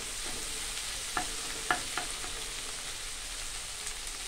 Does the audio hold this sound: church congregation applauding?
no